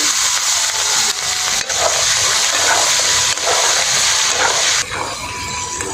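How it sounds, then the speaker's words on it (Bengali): Potato pieces fry in hot oil with dry red chillies and bay leaves for a rohu fish curry, giving a loud, steady sizzle with bursts of crackling and brief dips. "আলুটা এখন একটু ভেজে নেব।"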